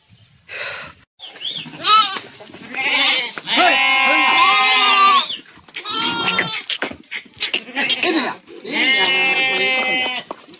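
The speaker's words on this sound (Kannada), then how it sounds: "ಅದು ಕುರಿಗಳು ಹಾಗೆ ಮೇಕೆ" Sheep and goats on a village farm bleat loudly and close, one long wavering call after another, with overlapping cries filling most of the stretch and only brief gaps between them.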